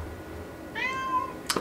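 A cat indoors gives a single drawn-out meow, close and clear, followed by a brief sharp click or tap in an otherwise quiet room.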